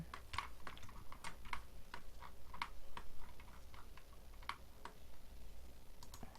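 Keys pressed on a computer keyboard during 3D modelling software work, sparse soft clicks and taps at an irregular pace, faint and close, over a quiet room hum with no talking.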